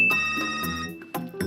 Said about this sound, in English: this guy has a phone with this ringtone